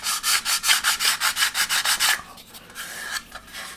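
Sandpaper scrapes burrs off a plastic part for a Heller 1/200 scale Elizabethan model ship, about a dozen quick, even, close strokes in a rhythm, then a few slower, lighter passes, with no talking.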